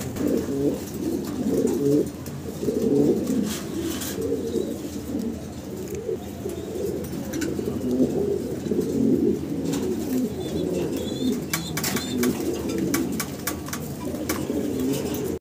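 A large pair of fancy pigeons coos continuously and close by, deep rolling calls repeating throughout with faint chirps in the background and no speech.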